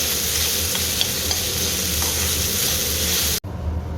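Okra bhaji stir-fries in a pan after salt and sugar go in, a loud continuous sizzle with a constant frying hiss close to the pan, cut off abruptly near the end.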